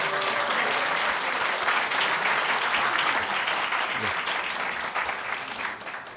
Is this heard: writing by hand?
no